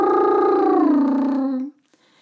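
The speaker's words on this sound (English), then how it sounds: "You then add a hum behind it to sing an interval of a fifth" A voice doing a lip-roll vocal warm-up with a hum behind it, gliding down through an interval of a fifth in one sustained, buzzing tone that ends abruptly, close and clear.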